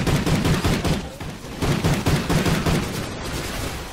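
Rapid, sustained Death Machine gunfire in Call of Duty: Ghosts, a dense rattling burst with brief dips, loud and close throughout the four seconds.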